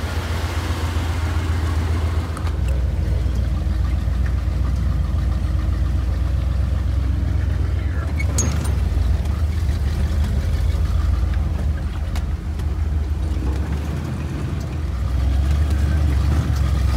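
A Toyota FJ40 off-road vehicle's engine idles with a steady, low rumble, continuous, close by and fairly loud, with no speech over it.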